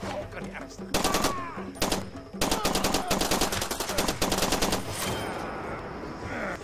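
Rapid automatic gunfire from Far Cry 2 comes in loud, close bursts of machine-gun fire separated by short pauses, with a lingering echoing tail at the end.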